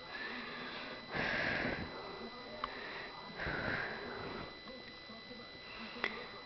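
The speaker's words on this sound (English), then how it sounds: "Sniffing it, making sure it's fair game." Close, loud sniffing in two long bursts separated by a pause, with small clicks and snuffles in between.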